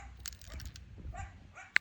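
A dog barks and yips a few times outdoors amid wind and faint background noise, with a sharp short bark near the end.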